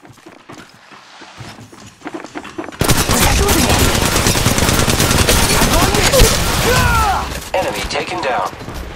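Loud sustained automatic gunfire rips through an Apex Legends Mobile match, beginning suddenly after a few seconds of quieter footsteps and scuffling and continuing as a dense, unbroken volley with brief gaps near the end.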